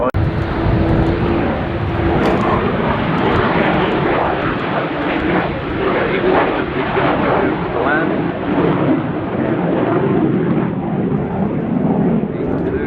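A Boeing aircraft flies a display at the 2024 Farnborough Airshow, its engine roar a broad, continuous rumble throughout, heard from a distance outdoors while a commentator talks over it.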